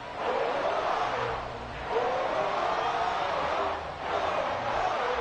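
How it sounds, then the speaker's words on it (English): A loud stadium crowd in the Madden 24 football game keeps up a continuous dense roar. It surges in two broad swells and never drops out, with no distinct voices standing out. "This crowd is very loud and very active."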